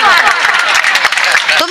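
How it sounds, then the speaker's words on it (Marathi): Audience clapping at a Marathi kirtan, a dense steady wash of many hands filling the whole stretch, loud and close, with a voice briefly rising at the end. "तुम्ही वाजवा टाळ्या, वाजवा"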